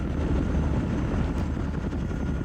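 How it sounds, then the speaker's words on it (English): A military helicopter in the video game Squad Battles Tour of Duty roars steadily and loudly, its rotor wash and engine drone filling the scene without pause as it comes down to land. "Let's get this chopper down here."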